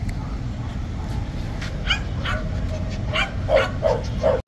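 Terriers, French and Ukrainian, bark and yip at a pet market along a Baghdad plant-nursery street, several short sharp barks and whimpers over a noisy crowd background, with voices murmuring nearby.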